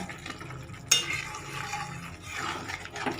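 A small splash of water is poured into a pot of Bengali niramish aloo dum made with small new potatoes. A sudden splash is followed by a few seconds of soft, close liquid sloshing and stirring.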